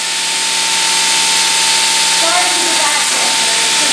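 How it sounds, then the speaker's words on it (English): A 1927 Otis traction elevator motor runs in its machine room, a steady loud broadband whir with a constant hum, continuous throughout. "Alright, here goes the motor again."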